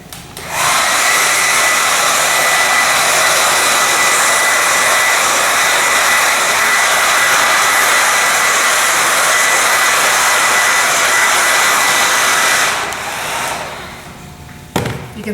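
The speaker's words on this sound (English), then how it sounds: "if you wanted to take your hairdryer, you could kind of blow it off just a little bit" A hairdryer blows steadily over wet paint on space-themed artwork, a loud continuous whoosh that starts abruptly, holds for about twelve seconds, then cuts off with a brief clatter at the end.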